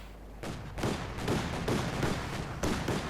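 2 cm cannon of a Luchs armoured car in a Company of Heroes 2 battle, firing several rapid bursts of loud, sharp, evenly spaced shots close by, with no voices.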